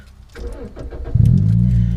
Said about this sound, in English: as we start her up